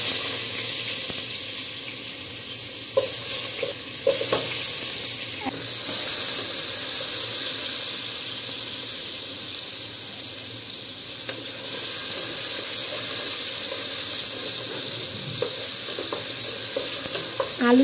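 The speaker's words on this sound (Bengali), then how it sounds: "এখন একটু ভেজে নিব আলুগুলা, এগুলো গলা গলা হয়ে যাবে।" Salted potato pieces fry in hot oil, a loud, steady sizzle and spatter with intermittent stirring and scraping in the pan; no one speaks.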